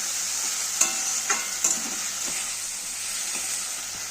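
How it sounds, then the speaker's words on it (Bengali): Spice masala with chilli powder, turmeric and ginger-garlic paste stir-fried in water, a steady bright sizzle with several distinct spatula scrapes and taps against the pan, close and alone. "লঙ্কা গুঁড়ো হলুদ গুঁড়ো দিয়ে দিয়েছি মিক্সি ধোয়া জলটা দিয়ে দিয়েছি ওতেই মশলাটা আমি কষিয়ে নেবো"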